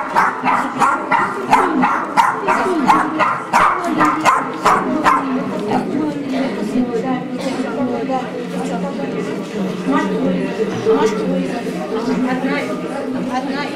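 Several small dogs bark and yip in quick repeated bursts, loudest at first, then settle into scattered yaps under people chatting.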